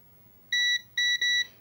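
A multimeter on a continuity test against the ground of a 1970s pinball battery holder board gives three clean, loud electronic beeps, one long, one short and one long, in an otherwise quiet room.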